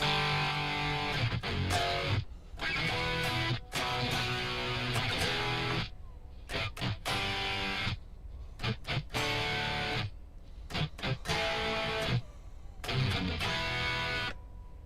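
A distorted electric guitar plays choppy chords with a thick doubled tone, stopping and restarting in bursts with brief silent gaps.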